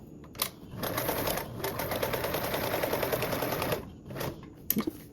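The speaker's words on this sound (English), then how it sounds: "And I'll sew across. Now we can sew down to our bottom." A sewing machine stitches across a fabric toiletry bag, running in a steady, fast mechanical whir for about three seconds between short stops and soft handling clicks, close and clear.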